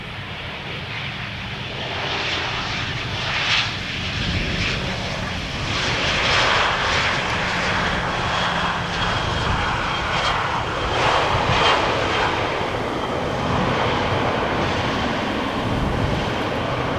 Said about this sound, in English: Delta Airlines flight 74, third to land. And the second A350 of 3 that we are going to see today.